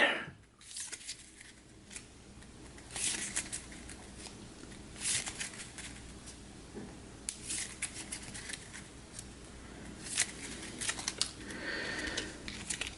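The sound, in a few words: shuffling cards in Hero Realms card game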